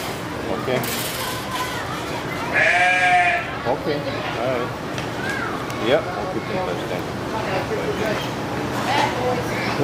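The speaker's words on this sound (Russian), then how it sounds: "Вот такие здесь козлы." Goats bleat at Knoxville Zoo, a couple of wavering calls rising over steady crowd murmur and people talking nearby, with the loudest bleat around the middle.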